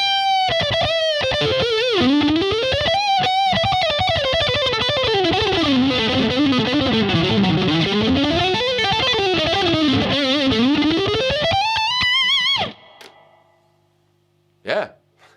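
An electric guitar plays through a Marshall DSL 20HR amp with the tone shift off, giving a loud distorted lead line with bends for about twelve seconds, then falling silent except for one brief note.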